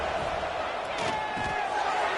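A stadium crowd at a football game roars as a steady, dense wash of noise, loud and continuous throughout, with a few louder swells rising out of it.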